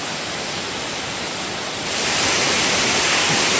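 Steady broadband roar of a waterfall in Pisgah National Forest, close and dense, swelling louder about halfway through with no voices.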